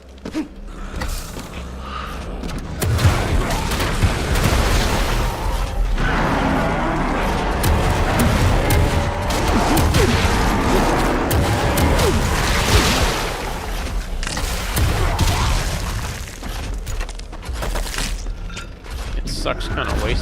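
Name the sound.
big guns firing in video game Wrath: Aeon of Ruin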